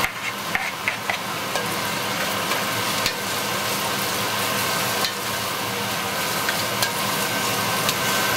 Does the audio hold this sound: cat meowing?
no